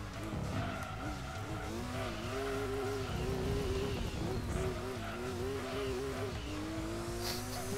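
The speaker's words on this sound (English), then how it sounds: "Just love the sound of the blow-off valve here in Gran Turismo 2." A race car in Gran Turismo 2 runs with a constant loud engine drone that shifts and wavers, with squealing tones and a blow-off valve whoosh layered over steady game noise, and no voices.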